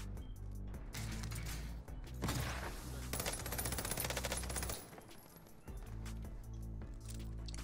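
Sustained automatic rifle fire from a GRAU 5.56 in Call of Duty: Warzone on Rebirth Island, loud rapid bursts running almost continuously over game music and ambience, with a short lull near the end.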